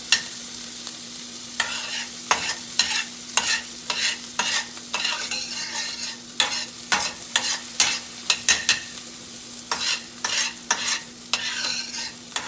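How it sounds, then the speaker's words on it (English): Onions sautéing in a pan for corn dip, with repeated scraping stir strokes over a steady low sizzle, close and fairly loud, in irregular bursts throughout with no talking. "Just going to let those saute for a minute"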